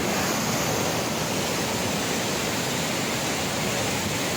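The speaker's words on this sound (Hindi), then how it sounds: "और देखिए पानी कैसे निकल रहा है, देख सकते हैं।" Flood water on the Kosi river rushing out through a barrage gate, a constant loud broadband roar of churning water with no letup.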